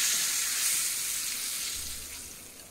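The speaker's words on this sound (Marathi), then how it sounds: "आता आपण हे टाकणार आहोत मस्त अशी फोडणी." Hot tempering is poured into a curd batter and sizzles loudly at once, a dense hiss that starts strong and slowly tapers off over a few seconds, close by with no voices.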